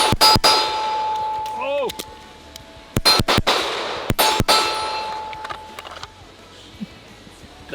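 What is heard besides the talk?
Springfield Prodigy pistol shots hitting steel targets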